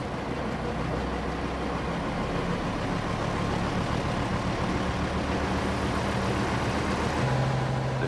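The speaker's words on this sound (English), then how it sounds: "Jock has to increase the engine revs" A 1998 classic Amazon crane's diesel engine runs at raised revs to drive its power takeoff generator, giving a steady, loud mechanical drone with low rumbling throughout and a slight shift in pitch near the end.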